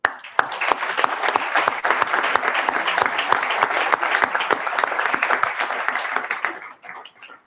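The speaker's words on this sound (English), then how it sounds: "I would like us to applaud them." Audience at an award gala dinner breaks into sustained, dense applause, many hands clapping steadily for several seconds before it thins and fades out.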